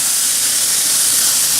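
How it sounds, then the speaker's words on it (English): Steak searing in a hot cast iron skillet, a loud, dense and steady hiss filling the whole moment with no break. "So you're going to want to sear it in a cast iron skillet"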